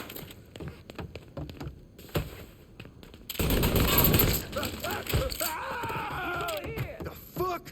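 Bursts of gunfire in Mafia 3, rapid shots and a denser volley mid-clip, heard under excited shouting from a player.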